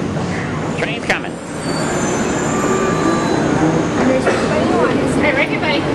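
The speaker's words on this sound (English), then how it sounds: "Train's coming." A subway or airport people-mover train pulls into a station, with rumbling wheels, squealing brakes and rail clatter filling the space while people talk nearby.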